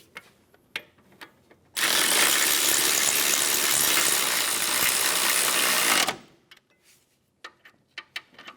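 A power tool runs in one sustained, loud, close burst of about four seconds while driving caliper bracket bolts on a 2003-2007 Infiniti G35 front brake, framed by quiet clicks and handling noises before and after.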